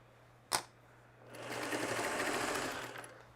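A sewing machine stitches quilt blocks made from mini-charm squares, starting after a sharp click with a steady, fast mechanical whir that runs for about two seconds before slowing.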